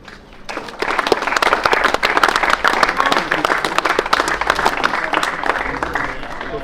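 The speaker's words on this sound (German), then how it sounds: "Ein riesen Applaus für unser Vollgas-Team." A crowd at a turbo-kart race awards ceremony in Wohlen, Switzerland bursts into sustained, loud applause after a brief quiet start, many hands clapping densely and evenly until the end.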